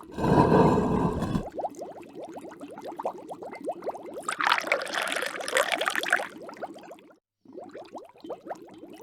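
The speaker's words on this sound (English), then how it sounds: "a dose of nymph's well water to start us off" Nymph's well water is poured into a cauldron, starting with a loud splashing gush that settles into a steady trickling stream with brief bubbling, close and alone.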